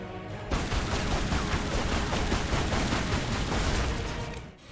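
Rapid, continuous pistol fire in Tomb Raider Anniversary as the Centaur is shot, a dense, loud stream of shots with no gaps for about four seconds before cutting off.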